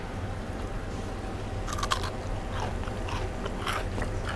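Crisp crunching bites into a honey-dipped Greek fried pastry (xerotigana), several sharp crackly bursts close up in the second half over a steady low background hum.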